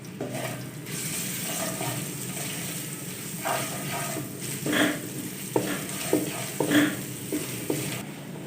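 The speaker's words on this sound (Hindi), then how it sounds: "लहसुन अदरक का पेस्ट डालेंगे साथ में 1 टेबल स्पून। फ्राई करेंगे तीनों चीज़ों को।" A tablespoon of garlic-ginger paste frying in a pan with two other ingredients while making suji besan kababs. A steady low sizzle runs throughout, with intermittent scraping stirs and sputters growing busier toward the end.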